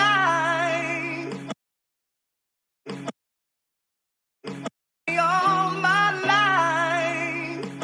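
Chopped, pitched-up soul sample playing alone, with high sped-up vocal and instrumental phrases broken by sudden silent gaps and two short stabs before the loop resumes.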